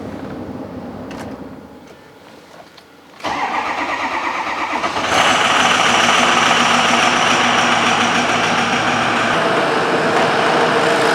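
Ford F350 diesel truck engine cranking briefly, catching, then settling into a loud, steady idle close by.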